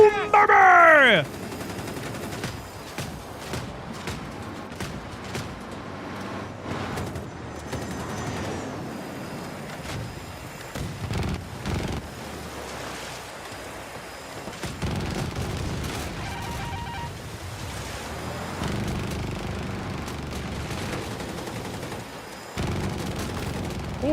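Battlefield 6 combat gunfire with bursts, booms and explosions under game noise and a player talking, intermittent shots spread across the stretch.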